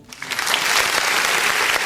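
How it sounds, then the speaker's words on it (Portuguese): A church congregation bursts into loud, dense applause during a Portuguese-language worship service, sustained clapping that fills the room with no talk over it. "Vamos aplaudir o nome de Jesus?"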